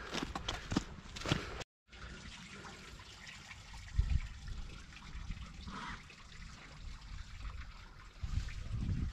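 Frozen farm water being thawed on a freezing, foggy day, a steady outdoor trickle and dribble of liquid running on with low rumbles, one brief break and a few louder splashy bursts.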